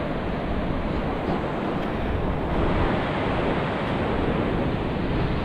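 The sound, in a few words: sea waves at the beach in Udupi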